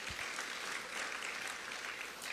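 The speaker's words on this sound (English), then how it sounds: "A big round of applause to our President." A crowd at a formal government event applauds the President of the Philippines, a brief, even patter of many hands clapping, heard somewhat distant and quiet.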